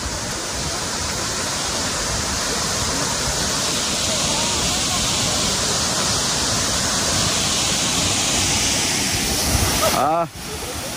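A loud, steady roar of falling water from Hisetsu Falls fills the scene, broadband and unbroken, with a brief voice near the end.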